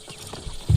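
Horse hooves clip-clopping in Red Dead Redemption 2 played on a handheld PC: a few soft, low steps, then a louder, close thud at the very end, with no talking.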